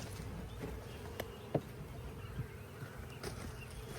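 Honeybees buzz around a hive during a split, a faint continuous drone with a few close passes flaring briefly louder.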